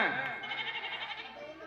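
A young goat at a village Pongal festival gives one clear, wavering bleat that starts loud and trails off, close to the listener.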